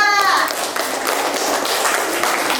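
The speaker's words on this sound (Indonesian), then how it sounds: "Tepuk tangan untuk kelompok 2." Fourth-grade children clap for a group in a classroom, giving a short burst of fast, scattered applause with some children's voices over the start.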